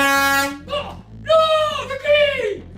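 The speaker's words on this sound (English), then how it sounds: "Top 5 air horn pranks." An air horn blares loud and close in a prank, one long blast followed by shorter wavering honks and squeals.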